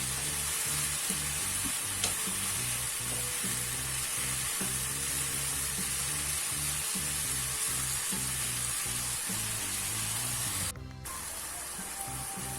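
Mushrooms fry in a pan with a steady, close sizzle and a regular pattern of stirring strokes, briefly dipping near the end.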